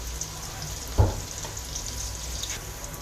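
Chopped onion frying in a pan for vegetable fried rice gives a steady soft sizzle, broken by a single sharp knock or clatter near the start.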